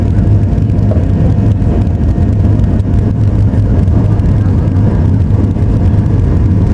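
Twin CFM56-7 jet engines of an airliner spooling up to full takeoff thrust, a loud, steady, broadband roar with deep rumble heard from inside the cabin, continuous throughout.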